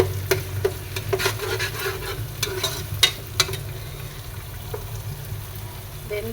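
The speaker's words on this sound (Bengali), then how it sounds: "ভালোভাবে ভেজে নিই। এই তো মশলাটা কষিয়ে নিলাম।" Ginger-garlic paste and spice masala for biryani fry and get stirred in a pan, a steady close sizzle broken by repeated scraping strokes of the spoon.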